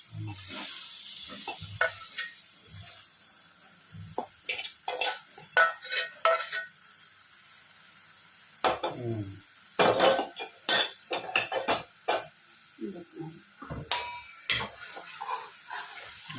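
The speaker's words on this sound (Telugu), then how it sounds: "వేపిన చేపలు ఇందులో కలపాలి. ఇది ఇట్లా వేపుకోవాలి. ఏది? ఓకే. ఇప్పుడు దీన్ని ఇట్లా కలిపేసుకోవాలి." A utensil scrapes and clinks against a pan in irregular bursts while fried fish is folded into a brinjal curry. A soft sizzle runs under the stirring, with quiet pauses between strokes.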